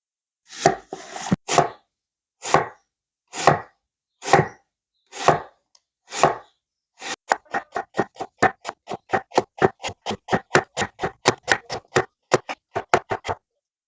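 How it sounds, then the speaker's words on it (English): Onions are finely sliced with a knife on a board: a few slow, spaced cuts, then a quick, steady run of crisp, even chops, close and clear with nothing else audible. "Finely slice 3 medium onions."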